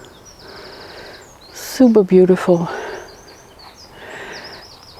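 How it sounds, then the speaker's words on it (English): Birds sing in a spring garden in short chirps and thin high trills, faint and some distance off, while someone speaks up close in the middle of the clip. "I hope you can hear the birds also."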